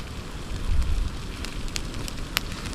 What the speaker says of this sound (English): I wanted to test out this enamel plate and see if I could fry in it. So I got some bacon in here.